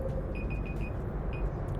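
An alarm set during a livestream of EVE Online goes off as a few short, evenly spaced beeps under a steady background hum.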